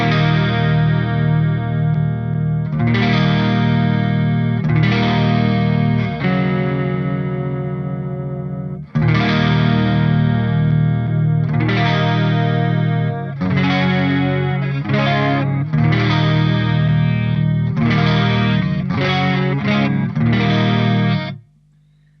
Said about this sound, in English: I feel that maybe the MXR Wylde chorus is a tiny amount of warmer